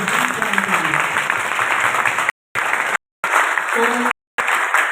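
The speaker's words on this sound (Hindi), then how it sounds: "तो एक बार तालियां हो जाए।" Audience applause fills a three-day company seminar hall, a steady broad wash of clapping that cuts out abruptly in several brief silent gaps before resuming at the same level.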